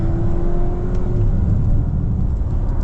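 A 2026 Volvo XC60 B5 accelerates at full power, its engine pulling in a strong, steady rising whir with road rumble from inside the cabin, no voices over it.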